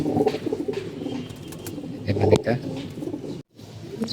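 Pigeons coo in a home loft on a sunny day after being bathed, a steady murmur of soft repeated calls close by, mixed with someone talking over them and some handling noise.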